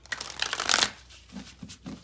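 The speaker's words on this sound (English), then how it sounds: "I'll stop shuffling when the spirits tell me." A deck of tarot cards is shuffled in quick riffling bursts at close range, loud at first and then easing into a few softer, separate card slaps, with no voices.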